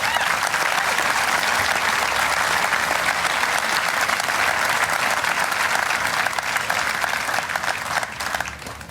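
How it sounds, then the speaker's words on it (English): A crowd at an outdoor Veterans Day ceremony in Rancho Cordova applauds POWs, dense sustained clapping that holds steady and then begins to thin near the end. "Let's give them a big hand,"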